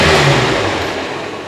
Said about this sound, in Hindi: ये साउंड है इंजन का, जबकि इसका साउंड ऐसा होता ही नहीं है।